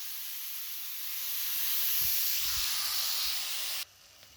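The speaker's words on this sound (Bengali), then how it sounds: "মাশরুম কিন্তু নিজের জলেই সিদ্ধ হয়ে যাচ্ছে" Mushrooms simmering in their own released water in a pan give a steady, fairly loud hiss of steam and sizzle with faint low bubbling, cutting off abruptly near the end.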